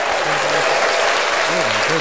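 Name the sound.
loud clapping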